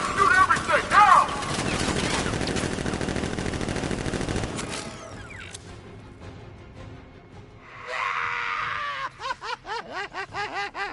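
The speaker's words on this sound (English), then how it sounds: "Gun! Open fire! Shoot everything!" Bursts of gunfire from the Batman: Arkham Knight video game, with a dense rattling volley over the first few seconds, then quieter stretches and a final run of sharp repeated shots, while voices talk over it.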